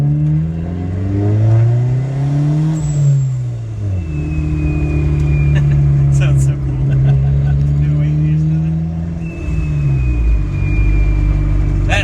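Engine revving with an HKS blow-off valve fitted with an eagle whistle insert, several rising and falling revs with a sharp whistling hiss as the throttle lifts, close and loud, with some speech-like sound mixed in.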